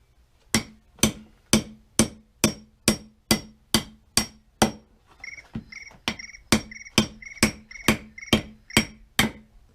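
A dried-out old axe head having a four-wedge set driven in with steady, evenly spaced hammer blows, sharp loud ringing strikes at a regular rhythm, about twenty in a row, with a faint tonal chirp through the second half.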